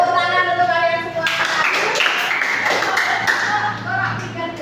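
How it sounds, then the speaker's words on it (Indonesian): Children clapping together in a special-needs school classroom, a burst of close, fairly loud claps lasting a few seconds, with young voices chattering over it before and after. "Tepuk tangan untuk kalian semua."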